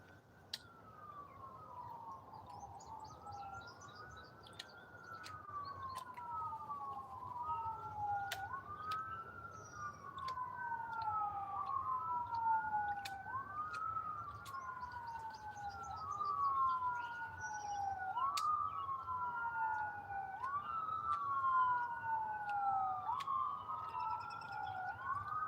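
Wailing emergency vehicle sirens rise and fall in a steady repeating sweep, fairly distant and continuous, heading toward a wreck near a racetrack by a highway, with faint background hum.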